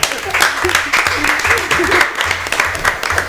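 An audience applauds the contestants after a duel in a student vacation game event, sustained crowd clapping close and loud through the whole stretch, with voices murmuring underneath.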